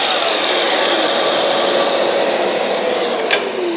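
A Festool Kapex KS 60 mitre saw cutting a dense piece of ash: a steady, loud high-pitched motor whine sustained throughout, with a brief sharp tick near the end as the blade finishes.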